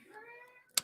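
A young bush cat gives one drawn-out, wavering meow, close and fairly soft, followed by a sharp click.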